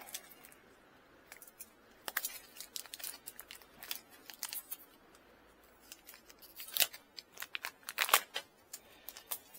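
Plastic packaging around a tube for a rain barrel water storage setup being cut and handled, sharp crisp snips and crinkles in irregular bursts, close and fairly quiet with no talk.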